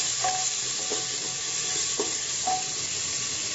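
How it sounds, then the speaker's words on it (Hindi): Coriander powder, turmeric and garam masala fry in a pan for dal makhani made without garlic or onion, a steady bright sizzle close up with a few soft scrapes of stirring and no talk. "इसमें हम धनिया का पाउडर डालेंगे, हल्दी डालेंगे, 1 चम्मच हम गरम मसाला डालेंगे और इसको थोड़ी देर फ्राई कर लेते हैं।"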